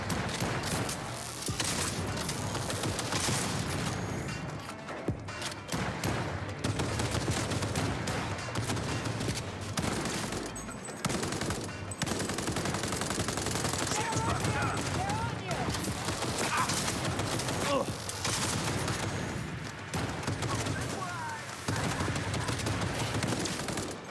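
Rapid gunfire rattles through a Cyberpunk 2077 Phantom Liberty firefight, dense and continuous over much of the stretch, with voices talking over the shooting throughout.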